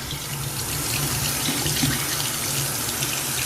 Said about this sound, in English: Now right now, you want to turn this water on.